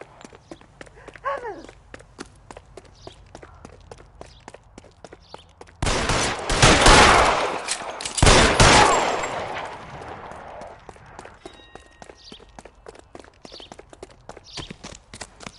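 Gunfire in the LA Noire video game erupts midway as two loud, dense bursts of rapid shots lasting a few seconds, preceded and followed by quieter scattered clicks and footstep-like taps.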